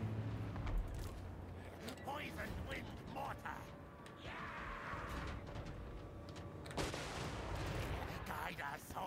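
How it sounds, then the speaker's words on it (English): Mortar artillery fires in a Total War: Warhammer battle, with repeated muffled thuds and crackling impacts scattered through a busy mix of game noise, moderately loud throughout. "The mortars are doing really good."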